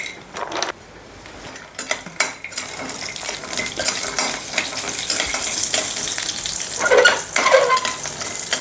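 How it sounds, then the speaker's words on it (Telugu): Cashew nuts frying in oil in a pot for corn laddu give a lively sizzle, with a metal spoon scraping and clinking against the pot in irregular bursts close by. "కొన్ని జీడిపప్పులు వేపుతాను కొద్దిగంత."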